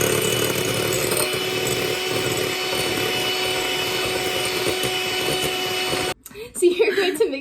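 An electric mixer whips souffle pancake mixture as sugar is added, a steady loud whirring drone that runs continuously and then cuts off abruptly, followed by voices talking.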